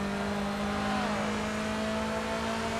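A race car engine in the game Grid 2 holds a steady high whine, its pitch sliding briefly then settling, loud and continuous throughout.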